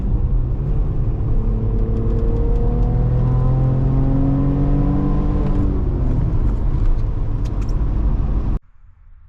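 A turbocharged car running about 30 psi of boost accelerates hard with a loud, steady engine roar and a droning whine that climbs in pitch for several seconds before cutting off abruptly near the end.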